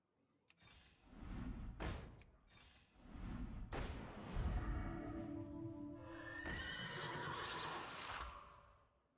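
A horse in a video game, the Golden Horse, gives several loud whinnies and neighs amid game sound effects, with thuds and a sustained tonal chime layered in the later part.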